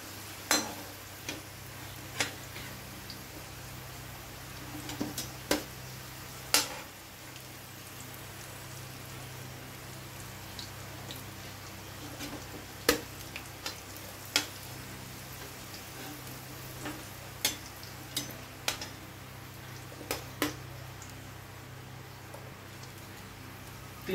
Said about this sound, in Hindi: ये देखिए जो हमारे आलू है वो अच्छे से फ्राई हो चुके हैं